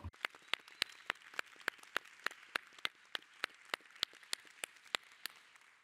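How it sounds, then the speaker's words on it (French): Panel audience at the IGF 2025 plenary on human rights and the information space, giving a few seconds of rhythmic, evenly spaced clapping with sharp distinct claps, moderately close, no talk over it. "Applaudissons-les bien fort."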